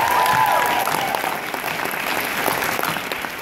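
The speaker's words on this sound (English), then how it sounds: "So let's give them one more round of applause real quick." An audience at a coaching leadership event gives a round of applause, dense close clapping that starts loud and stays steady for a few seconds with a slight fade, no talking over it.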